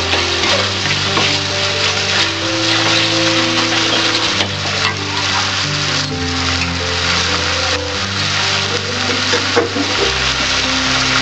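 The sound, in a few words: bay leaf sizzling in hot oil in pressure cooker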